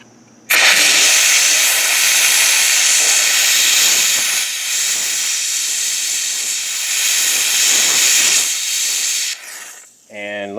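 A Wagner Spraytech SteamMachine steam cleaner lets out a loud, steady hiss of steam at close range for about nine seconds, then the jet cuts off and a brief clatter follows.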